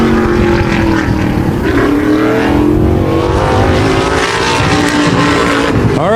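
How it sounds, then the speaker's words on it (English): A Wall modified race car runs on the high-banked speedway oval at Wall Stadium during qualifying time trials, its engine roaring loud and continuous with shifting pitch as it accelerates around the track. "First car on the speedway for Wall Modified Time Trials"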